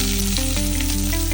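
Curry leaves and popping mustard seeds sizzle loudly in hot oil on a stove while a chickpea curry base is started, a dense, steady frying hiss with crackles, close and alone with no talk.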